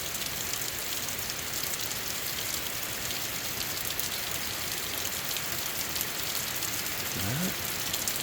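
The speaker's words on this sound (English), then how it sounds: "Now the rain is coming down" Heavy rain from a storm ahead of Hurricane Helene pours steadily, a dense unbroken hiss of drops drumming on surfaces, close and loud throughout.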